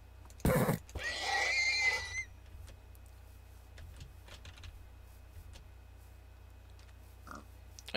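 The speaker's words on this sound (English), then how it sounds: "Ooh, horse." Horse whinny in modded Minecraft, a sharp snort followed by a loud neighing whinny lasting about a second, then faint clicks and quiet game sounds.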